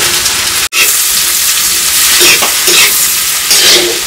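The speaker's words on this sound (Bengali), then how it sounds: "রাইসের জন্য আমরা ক্যাপসিকাম গাজর ভেজে নেবো প্রথমে।" Capsicum and carrots frying in oil for fried rice, a loud continuous sizzle with stirring scrapes throughout and one brief dropout near the start.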